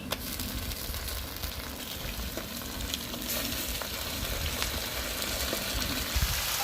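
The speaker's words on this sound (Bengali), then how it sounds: "পেঁয়াজ ভাজা কমপ্লিট। এরপর মাংসগুলো দিয়ে দেওয়া হচ্ছে।" Goat meat frying with onions in a pot over a clay stove, a dense continuous sizzle with scattered stirring clicks and scrapes, steady and close throughout, no talking.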